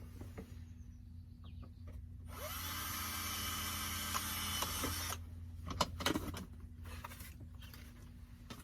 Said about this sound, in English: So I'm gonna go ahead and drill a hole.